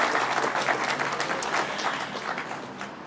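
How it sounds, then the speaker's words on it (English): Audience applause at the 2018 Moran Contemporary Photographic Prize awards ceremony, a sustained wash of many hands clapping in a hall, steady at first and gradually thinning toward the end. "please do give them another big round of applause"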